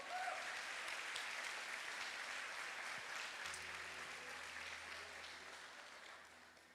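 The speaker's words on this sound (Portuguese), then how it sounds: "Você pode aplaudir a Ele por isso?" Church congregation applauding during a Portuguese-language worship service, a broad, steady wash of many hands clapping that fills the room and slowly tapers off near the end.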